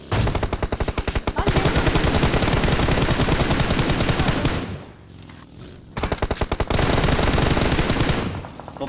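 Rapid automatic gunfire from a PUBG Mobile match rattles in dense, loud bursts, breaking off for about a second before another burst resumes and fades.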